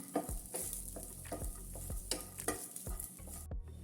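Nuts dry-roasted without ghee in a pan for oats and dates laddu, stirred in quick rhythmic scraping strokes over a soft sizzle, quiet and close, with a low steady hum beneath.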